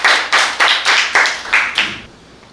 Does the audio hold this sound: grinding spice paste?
no